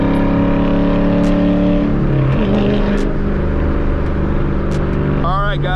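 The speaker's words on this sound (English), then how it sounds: "I'm just in the lower gear. I got the RPMs up." A catless Dodge Challenger held at raised RPM in a low gear, giving a loud sustained engine drone with steady harmonic tones that shift pitch midway and then settle, with brief other noises near the end.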